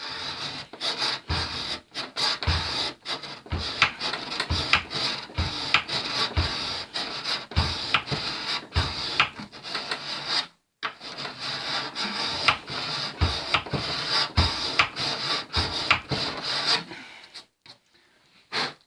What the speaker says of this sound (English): I'm using this file. I've taken it off my bit of wood and I'm draw filing